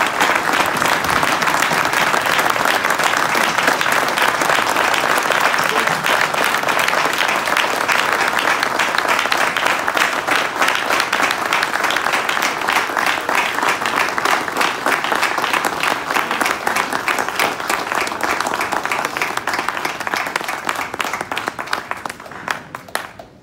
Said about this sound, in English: Brothers, let us stand and rise to give Brother Richard Travers a round of applause.